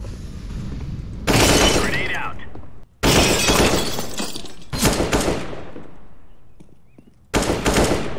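Repeated bursts of gunfire in the video game CSGO, loud close volleys of rapid shots with sharp cracks and ringing decay, separated by brief gaps, while a player talks over the action.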